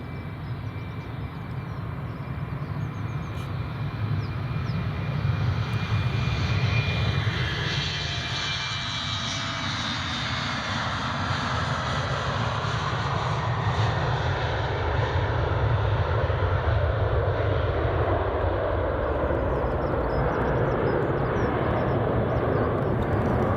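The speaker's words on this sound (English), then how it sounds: "Right, here goes the City Flyer." British Airways CityFlyer airliner departing Edinburgh Airport on a cold day, its engine roar loud and sustained, swelling and shifting in pitch as it accelerates and passes, heard from a distance with no talk.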